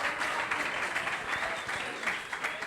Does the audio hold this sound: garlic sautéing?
no